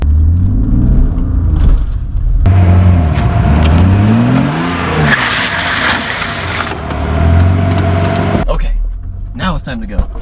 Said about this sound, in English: I'm just gonna do one more quick, actually, e-brake rip so you can see the tires lock up right in front of the camera